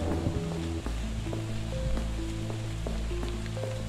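Rain falling in the game Five Nights at Freddy's: Security Breach, a steady soft hiss of rainfall running the whole time beneath sustained musical tones.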